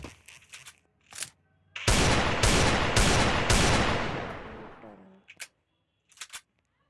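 A rapid gunfire burst from the video game Free Fire rattles for about three seconds and trails off, framed by sparse mechanical clicks before and after.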